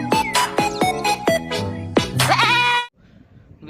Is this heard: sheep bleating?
yes